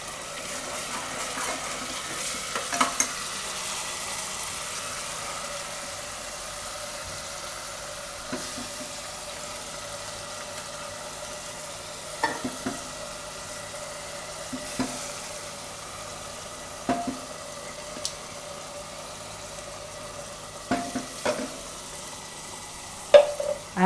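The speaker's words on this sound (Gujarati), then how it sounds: "થોડીક વાર એને તેલમાં આ રીતે ફેરવી અને એમાં નાખી દઉં આપણે આ ડુંગળીની પેસ્ટ" Onion paste frying in oil in a home kitchen pan, a soft continuous sizzle with occasional scraping clinks and knocks of a spoon stirring it, close and fairly quiet, with no voice over it.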